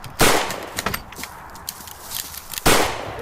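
Two sharp gunshots crack out about two and a half seconds apart in a multiplayer shooter video game, with fainter scattered shots and clatter between them. Loud and near, with no talking.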